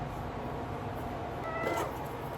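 A pet cat named Alice meows close by, a short drawn-out cry rising over steady low background noise in a home setting.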